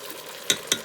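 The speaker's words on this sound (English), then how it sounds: "You see, still sizzling" Pork carnitas cooking on the sauté setting of a Ninja Foodi, a soft background crackle with two quick scraping clicks close together near the end.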